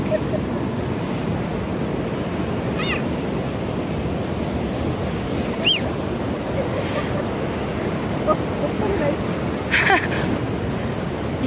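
Beach surf washes in as a steady, broadband roar throughout, with brief voices and faint shouts rising in the background.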